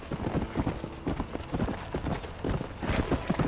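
Horse hooves clip-clop in the video game Red Dead Redemption, a quick, close run of rhythmic hoofbeats at a brisk gait over a few seconds.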